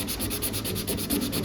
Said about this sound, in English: if you sand the other direction that you've been doing all your block sanding in